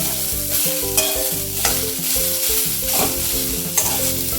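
Chopped onion dry-roasted and stirred in a pan before oil goes in, for a Malvani black pea curry: loud crackling sizzle with rhythmic stirring scrapes, over a steady tonal hum in the background.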